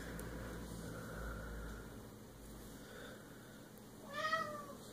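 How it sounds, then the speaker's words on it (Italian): A cat meows once near the end, a short rising-and-falling cry standing out clearly over a quiet indoor room hum. "È arrivato un gatto"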